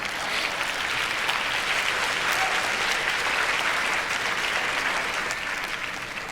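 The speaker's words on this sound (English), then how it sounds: "now you guys can clap. You can go ahead." A classroom audience claps steadily, a dense continuous wash of many hands that holds at an even level for several seconds before easing slightly at the end.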